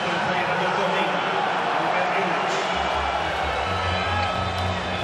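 Handball fans and the Vardar bench cheering during the EHF Final Four final against Veszprém, a dense continuous crowd roar with whoops filling the arena and a deeper swell rising near the end.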